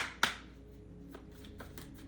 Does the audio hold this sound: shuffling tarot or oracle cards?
yes